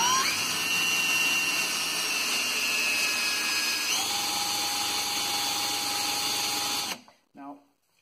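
Power drill with a starter bit boring into a metal storm door handle, a loud steady high whine whose pitch drops midway as the bit bites, then cuts off abruptly near the end.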